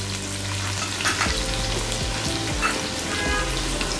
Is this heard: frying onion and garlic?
yes